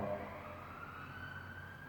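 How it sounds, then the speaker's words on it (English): A faint wailing police siren drifts in from a distance, its pitch sliding slowly upward over steady low traffic rumble. "as you can hear sirens"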